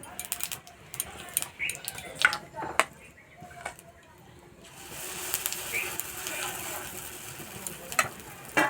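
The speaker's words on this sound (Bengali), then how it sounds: "এইভাবে একটা একটা করে ভেজে নেব" Tiffin snacks being fried one at a time in a pan, with scattered clinks and taps of handling, then a soft, even sizzle of oil rising in the second half, faint and close.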